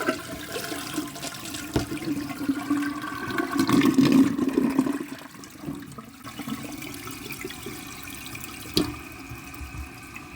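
Fuel gushes from a disconnected fuel hose on an Echo gas mower, a steady liquid splashing and trickling that swells to a fuller pour midway, then eases to a thinner flow with a small knock near the end.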